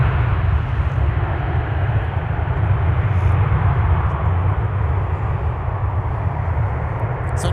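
A Sun Country jet roars on takeoff from runway 12 right at Minneapolis–Saint Paul airport, a loud, sustained broadband engine rumble holding steady throughout with no voices.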